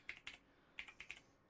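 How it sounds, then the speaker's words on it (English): Quiet computer keyboard typing with two fingers, about six separate slow key taps in an uneven hunt-and-peck rhythm, close and soft with no talking. "I'm typing like an old lady with like 2 fingers, just going boop, boop, boop, boop"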